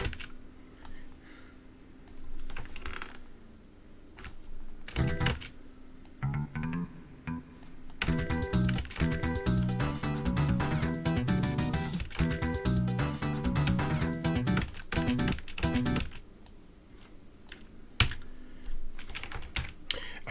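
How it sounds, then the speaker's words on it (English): Plastic keys on a squeaky keyboard clack and click in quick runs while MIDI bass and melody notes sound, with quieter stretches of isolated taps at either end. "I need to get a new keyboard that doesn't squeak as much for these."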